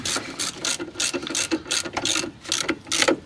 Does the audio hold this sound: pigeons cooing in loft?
no